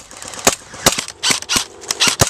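Airsoft gun shots during an outdoor airsoft game, several sharp cracks fired in irregular bursts at close range, with no talking.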